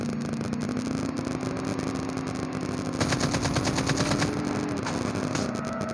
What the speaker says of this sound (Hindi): यहाँ पे शॉट्स की आवाज़ आ रही है